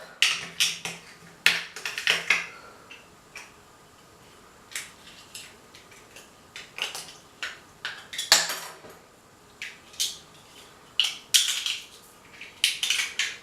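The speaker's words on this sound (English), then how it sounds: "now we're just going to spin the knife around, creating a nice hole in the cap." A knife spun by hand to bore a hole in a plastic bottle cap while building a plant CO2 dispenser gives sharp, irregular scraping clicks and rasps in quick clusters, close and moderately loud, with short pauses between bursts.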